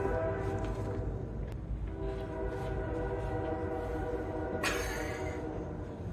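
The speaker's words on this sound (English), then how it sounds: "Yep, more train." A train rumbles past with a sustained tonal horn-like drone and a brief sharp burst near the end, loud and close throughout.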